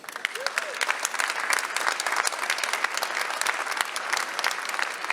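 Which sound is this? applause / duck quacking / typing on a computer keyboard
applause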